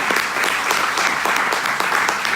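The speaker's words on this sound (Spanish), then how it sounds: "¿Cuántos le dan un aplauso al Señor?" A church congregation claps for the Lord in a brisk, rhythmic burst of applause, a close, even patter of many hands with no talking.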